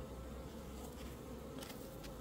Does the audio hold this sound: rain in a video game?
no